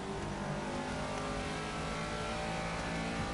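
Race car on an out lap in Project Cars, a steady droning engine note held at fairly constant revs, continuous and moderately loud with no talk.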